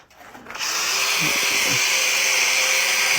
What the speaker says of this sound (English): for cleaning up old foam, I got some like scrub brushes for the drill